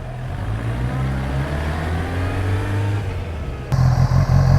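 A 2015 Kawasaki Ninja ZX10R sport bike engine runs with a steady, loud drone that grows slightly, then jumps abruptly into a harder, rougher rev near the end, close up with no talking.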